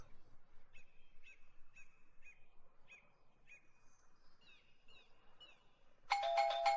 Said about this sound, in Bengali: বাড়ির সদর দরজায় গিয়ে কলিং বেলটা বাজাতেই রাধিকা দরজা খুলল।